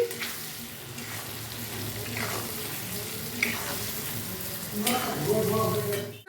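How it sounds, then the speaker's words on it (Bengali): Spices with salt sizzle steadily in a hot pan for a hilsa fish curry, with occasional scraping stir strokes and a louder burst of frying near the end. "সমস্ত মশলাটা আমি ভেজে নিচ্ছি"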